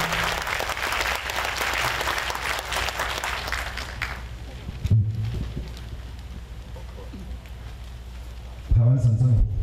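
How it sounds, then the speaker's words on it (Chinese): A large audience at a Taiwan Retrocession anniversary ceremony applauds to welcome the Vice President, a dense, loud wash of clapping that fades after about four seconds, leaving quieter room noise with brief low bumps. "我们用最热烈的掌声来欢迎我们中华民国副总统为"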